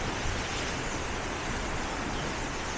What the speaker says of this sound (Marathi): समोर अथांग समुद्र आहे आणि मोठी मोठी दगड आहेत, तर त्या लाटा आदळत आहेत